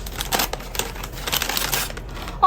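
Album packaging being unboxed crinkles and tears in quick, close bursts of plastic and paper rustling that continue steadily for a couple of seconds.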